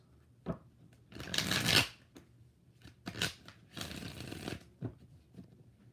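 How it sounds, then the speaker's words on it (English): Tarot cards are shuffled three times in quick bursts of riffling and flapping, crisp and close, separated by brief pauses and light taps, with no talking over them. "3 shuffles."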